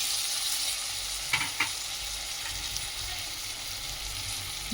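Beans and vegetables for a Bhogi vegetable dish tipped into a frying pan and stirred, a constant moderate sizzle with a couple of soft clunks from the additions, no voices.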